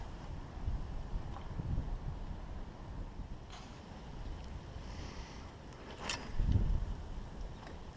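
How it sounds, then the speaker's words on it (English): Strong wind gusting at a lakeshore bank during fall fishing, a low blustery roar with microphone buffeting that swells near the end, no voices. "It's like a hurricane gust came through."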